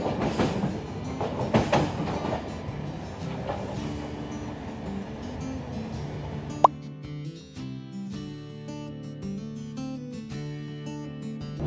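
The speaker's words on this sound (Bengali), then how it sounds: "ট্রেন সাংঘাতিক স্পিডে 130-এর ঘরে কন্টিনিউয়াস টানছে" A train runs at high speed, around 130 km/h, with a loud rumbling clatter and rhythmic knocks for the first half, then a steadier, more tonal hum.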